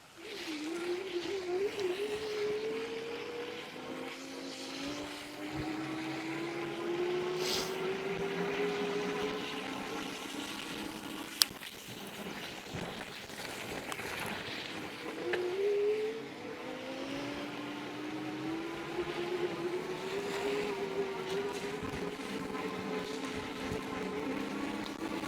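A Jansno X70 electric bike, a motocross-style e-bike, whines steadily as it is ridden, its motor pitch rising and falling with speed over a constant rushing background, moderately close, with no talking.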